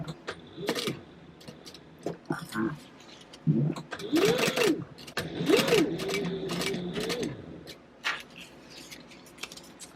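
Sewing machine stitching a bucket bag at a longer stitch length, heard in short, uneven runs beneath a voice talking through most of the passage.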